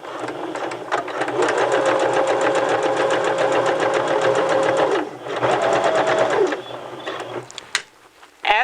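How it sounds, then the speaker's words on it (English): A sewing machine stitches along a skirt top on a 5/8 inch line, running in a loud, fast, steady whir for several seconds, pausing briefly, then running again before stopping. "we're going to sew from one end of the skirt top to the other end, staying on that 5/8 inch line"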